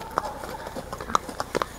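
A mare's hooves clip-clop at a steady walking rhythm during a ride with friends, a string of sharp, moderately close knocks over faint background noise.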